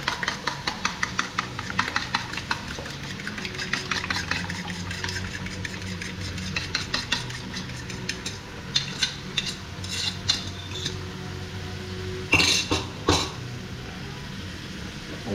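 Egg is stirred into frying bitter gourd, and a spatula clicks and scrapes against the pan in a quick, uneven rhythm over a soft sizzle. Louder metallic knocks come near the end, and no one speaks.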